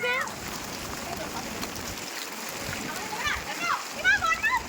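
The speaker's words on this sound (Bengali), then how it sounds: "আজকে বৃষ্টি পড়ছে ঠিকই" Heavy rain during an outdoor dance shoot, a dense hiss of falling water and splashing throughout, with people talking over it.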